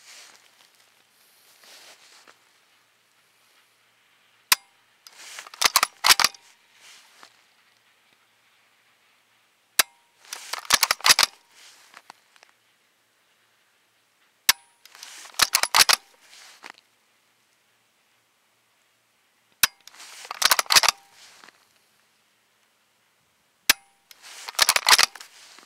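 The bolt of a DTA SRS rifle with a .308 conversion is cycled five times, each a sharp metallic snap followed by a burst of rapid clacking and sliding, separated by quiet gaps of about five seconds.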